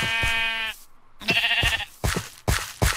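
Sheep bleat in the Minecraft video game, several wavering nasal calls in quick succession, loud and close, separated by short sharp in-game effects with no talking.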